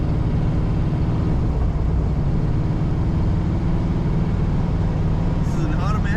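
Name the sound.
1952 Ford Customline sedan accelerating to 55 mph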